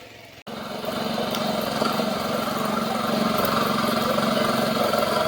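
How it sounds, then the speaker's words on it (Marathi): A tractor engine runs steadily in a farm field beside a house, loud and close, a continuous droning rumble after a brief cut near the start, with no talk over it. "सूर्या चालवतो ट्रॅक्टर आणि तुम्हाला दाखवतो मी."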